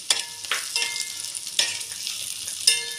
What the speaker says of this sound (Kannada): ಇದೊಂಚೂರು ಫ್ರೈ ಆಗಲಿ ನೋಡಿ